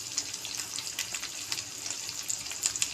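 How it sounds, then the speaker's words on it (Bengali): Water poured into a pan of Bengali fish curry with cooked-down spices, a steady hissing splash and sizzle, close and continuous with faint crackles, no talking. "এখন এখানে জল দিয়ে দেওয়া হবে"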